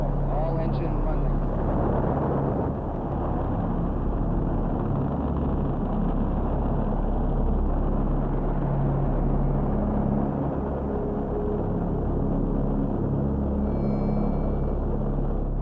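The Saturn V rocket engines roar at launch as a loud, continuous, deep rumble that stays heavy and steady from start to finish.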